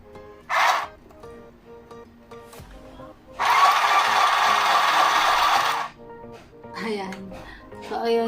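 A small battery-powered mini sewing machine whirs in a loud, steady mechanical burst lasting about two seconds, with a brief short run just before, while someone talks around it.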